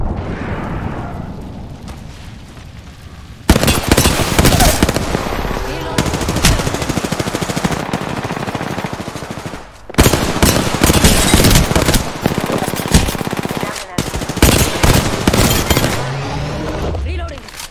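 Automatic gunfire in Apex Legends, loud rapid bursts of several seconds each separated by short pauses, mixed with character voice callouts.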